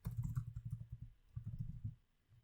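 Close, fast typing on a computer keyboard, two quick bursts of soft clicking keystrokes with a short pause between them and no talk.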